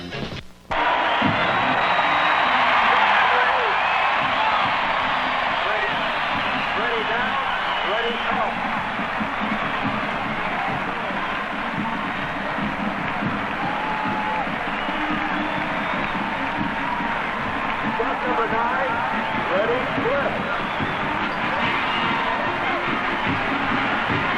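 Homecoming day crowd in a stadium at a 1974 Illinois football game, a broad continuous roar of cheering and applause held steady and loud from start to finish after a brief quieter opening.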